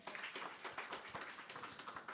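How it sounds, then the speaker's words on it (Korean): Church congregation at a Sunday worship service claps steadily in a quick, even rhythm, soft and slightly distant, with no talk over it. "자, 박수 한번 주세요."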